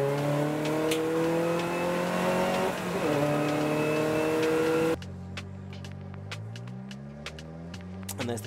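Race car at Silverstone's Club Enduro rolling down the pit lane and rejoining the race, engine note droning and rising steadily, loud and close at first, then dropping to a more distant hum with revs climbing.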